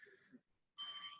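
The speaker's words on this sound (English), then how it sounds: "Hopefully we hear that bell now." A single bright bell strike marks time during a poetry reading, ringing clearly and sustaining briefly after a moment of quiet.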